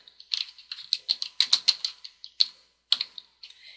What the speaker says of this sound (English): let's start by typing your full name.